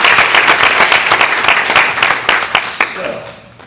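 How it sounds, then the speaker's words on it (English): Audience applause at a BNI business networking meeting for a massage therapy referral group, loud dense clapping with sharp individual claps standing out, fading toward the end. "Give Mo a round of applause"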